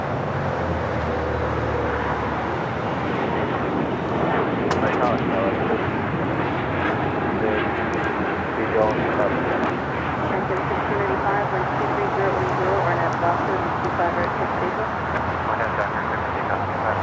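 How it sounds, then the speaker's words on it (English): A Porter Embraer E195-E2 jet taking off at LAX, a steady broadband engine roar that holds loud and constant throughout, with a voice talking over it. "Next takeoff here on the south side is Porter, E195-E2 heading back to Toronto, flight 664."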